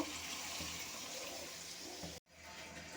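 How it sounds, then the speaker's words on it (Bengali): Water poured from a pan or container into simmering egg curry gravy, a steady hissing splash that runs for about two seconds before stopping abruptly, then a faint sizzle resumes. "এখন আমি জল দিয়ে দেব।"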